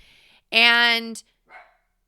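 A single loud, close dog bark followed a moment later by a softer short yelp, otherwise quiet.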